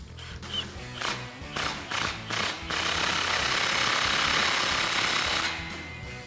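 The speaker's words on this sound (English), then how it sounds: "then we'll tighten it down with a 15mm socket" Rapid mechanical rattling as an exhaust clamp is tightened with a 15mm socket on a RAM 1500 pipe, loud and close: several short bursts, then one long continuous run before tapering off.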